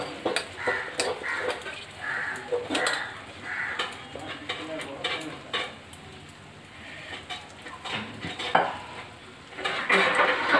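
Potato, cornflour and egg mixture poured into a pan and spread for a crispy potato paratha, with clattering utensil scrapes and soft sizzling, faint voices in the background.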